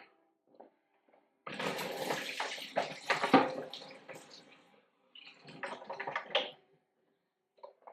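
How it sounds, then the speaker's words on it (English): Water dumped out of a coffee machine's reservoir: two separate bursts of pouring and splashing, the first longer and heavier, the second shorter, close by with near silence between them. "there's water in here and I don't want to pour water everywhere. So I have to dump this out."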